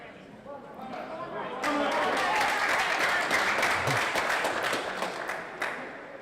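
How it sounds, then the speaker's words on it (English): Crowd at an All-Ireland 4-wall men's singles handball final breaking into applause and cheering, a dense wash of clapping that swells partway through, with a commentator talking over it. "You even have the crowd cheering for Martin for time."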